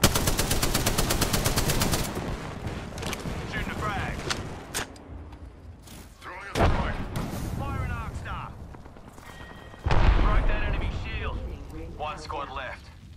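Gunfire in Apex Legends, with bursts of rapid automatic shots and heavier single blasts mixed with other game effects, loud and close, while a voice talks over parts of it.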